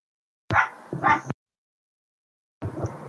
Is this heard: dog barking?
yes